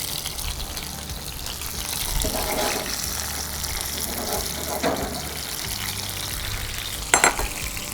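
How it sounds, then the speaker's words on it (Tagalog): Tomatoes fry in an oiled skillet with a steady close sizzle and crackle. Faint stirring scrapes sound now and then, and a sharper clatter comes near the end. "Unahin na natin yung tomatoes. Yan, para lutong-luto yung tomatoes."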